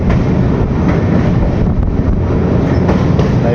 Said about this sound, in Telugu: ట్రైన్ కూడా కొంచెం స్లోగానే వెళ్తుంది నది బ్రిడ్జ్ పైన